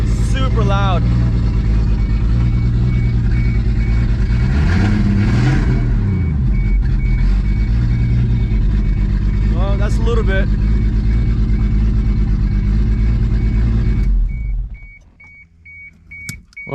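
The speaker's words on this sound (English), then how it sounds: "I don't want to rev it too loud because this downpipe really makes it super loud." A car engine, freshly repaired after a head gasket job and running with its downpipe disconnected, idles and revs loudly up close with a harsh droning exhaust, rising and falling before cutting off near the end, while a person talks over it.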